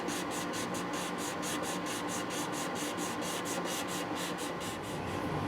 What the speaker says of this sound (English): we have a piece of sandpaper over here that we're going to work very little bit